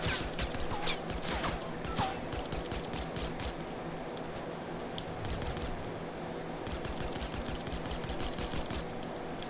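Rapid gunfire rattles in the Fortnite Battle Royale video game, with quick bursts of sharp shots in clusters separated by short pauses over a steady game background.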